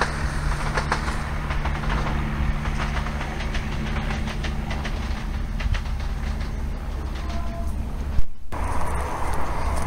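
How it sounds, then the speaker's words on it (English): A train rolls past nearby on a rail line along a walking commute, a continuous loud rumble with rhythmic clickety-clack of wheels over joints and a steady low hum throughout. "And oh, there goes one of the trains."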